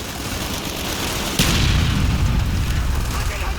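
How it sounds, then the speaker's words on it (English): Mortar strikes explode in Call of Duty Black Ops. A sudden heavy boom lands midway and is followed by a sustained low rumble over constant battlefield din. "Use your smoke grenade to mark targets for our mortars!"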